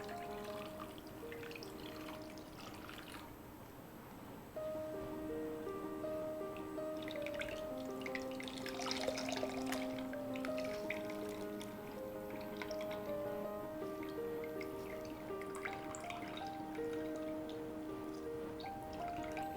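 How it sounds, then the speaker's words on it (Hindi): Water pours and splashes steadily into a container to rinse chena for rasgulla, with bubbling, trickling sounds that rise briefly in the middle before settling. "अब हम इसमें थोड़ा सा पानी डाल के इसे धो लेंगे"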